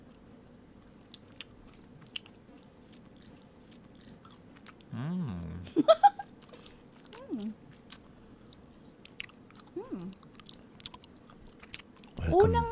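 Homemade Enchilados chamoy candies are chewed close to the mic in quiet bursts of crunchy, sticky biting, with a brief appreciative hum and some soft talk around it.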